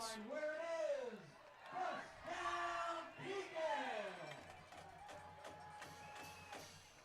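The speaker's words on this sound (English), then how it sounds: "It's always fun to see the sort of crowd get into it with the chants." A high school football crowd at a Dunlap at Pekin game chants in loud rising and falling unison swells, with cheering and a sustained horn-like tone toward the end.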